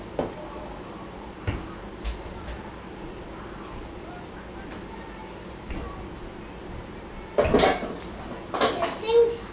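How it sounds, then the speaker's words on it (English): Dishes, pots and cutlery clatter in a crowded kitchen sink, with scattered clinks early on and a louder burst of rattling near the end, faint talk audible in the background. "Guess I'll be doing some dishes."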